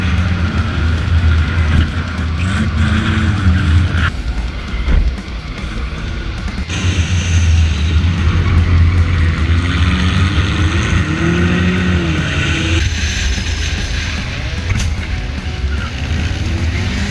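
Overheating race car in a video game enduro, its engine droning and revving loudly and continuously, with shifts in pitch as it accelerates and a few sharp changes along the way.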